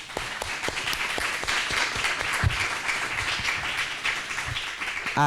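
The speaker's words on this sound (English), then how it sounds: "give our hosts a big round of applause" Scattered applause from a modest group at a community engagement forum, steady and moderately loud for several seconds, with no talking over it.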